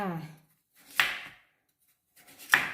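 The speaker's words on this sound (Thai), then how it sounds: "เวลาหั่นไปอย่างเงี้ยมัน เหมือนเขาจะกรอบๆเลย" A knife slices through thick, crisp raw pumpkin flesh in two separate crunchy strokes, close and clear, with someone speaking briefly just before.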